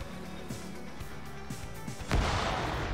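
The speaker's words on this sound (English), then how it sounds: "More grenades being thrown as British forces are turning over to try to figure out what Roland is doing" Grenades go off in a WW2 British-versus-German multiplayer battle game, with dull booms and distant gunfire under a steady rumble, then a louder blast near the end.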